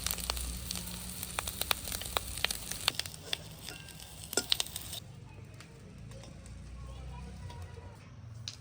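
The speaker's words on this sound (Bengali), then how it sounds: "এবারে ডিমটাকে খুব ভালো করে ভেজে নিচ্ছে" An egg frying in a pan in a village kitchen gives a soft, fairly faint sizzle dotted with sharp little clicks and spatters, and the texture changes partway through.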